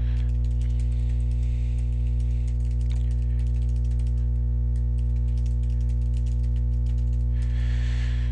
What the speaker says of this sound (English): we've gone ahead and typed our message